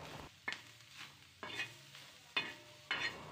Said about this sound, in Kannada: ಅರಿಶಿನ ಪುಡಿ ಹಾಕ್ಕೊಂಡು ಎಲ್ಲದನ್ನೂ ಒಂದ್ಸಲ ಮಿಕ್ಸ್ ಮಾಡ್ಕೊಳ್ತಾ ಇದ್ದೀನಿ